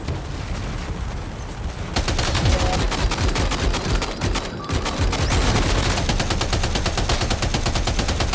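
Rapid bursts of automatic gunfire in the video game Death Stranding 2, loud and sustained, rattling on almost continuously after a brief quieter lead-in, with no talk over it.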